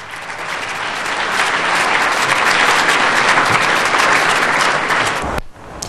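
At a Whitney Houston tribute, an audience gives loud, dense applause with a crowd feel. The clapping runs steadily for about five seconds before cutting off abruptly.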